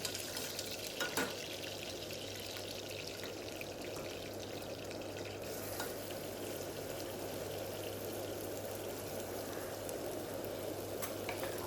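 Masala paste tossed with fried onions in oil, sautéing for a chicken dish, gives a steady soft sizzle with faint stirring scrapes, continuous and close throughout with no voices.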